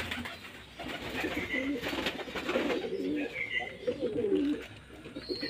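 Pigeons coo steadily inside a loft housing black and speckled birds with young chicks, a dense overlapping murmur of low throaty calls, close and moderately loud, with faint chirps above.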